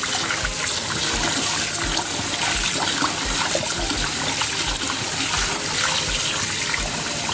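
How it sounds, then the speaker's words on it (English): Rice is washed in a kitchen sink under running tap water, a steady close gush with trickling, splashing detail and soft low knocks throughout, with no talk. "So I'm going to go over to my sink and wash my rice."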